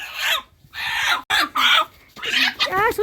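Native village hens and a desi rooster at a rural homestead give close, bright clucks in short bursts separated by brief pauses, with a few rising, warbling calls near the end.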